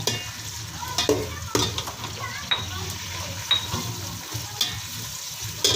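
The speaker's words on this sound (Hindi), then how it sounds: "ये हम अभी ऑयल थोड़ा सा घी हमारा गर्म हो चुका है, इसमें आप पहले प्याज डालेंगे" Onions fry in hot ghee for Punjabi aloo, a steady close sizzle broken by repeated spoon-against-pan stirring knocks and scrapes.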